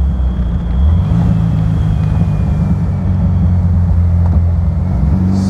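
A replica 1957 Porsche 356 Speedster drives fast, its engine a steady low drone under constant wind and road rumble from inside the open car, with no talking.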